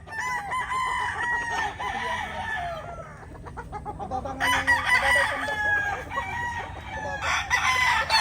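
Gamefowl roosters crow repeatedly at a game farm, loud and close, with clucking and other chickens calling throughout.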